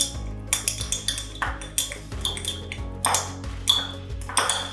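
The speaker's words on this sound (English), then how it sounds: "grab yourself something similar to like a chopstick or a fork and just give it a mix until it is all combined" Fork mixing flour and water inside a jar for a sourdough starter, rapid irregular metallic clinks and taps against the glass, close and crisp, with no talking.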